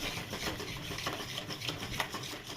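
Masala paste of ginger, garlic and roasted ingredients being stirred and sautéed in oil in a pan, a quick run of scraping and rubbing strokes, close and fairly quiet.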